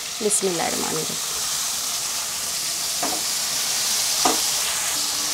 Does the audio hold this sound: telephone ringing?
no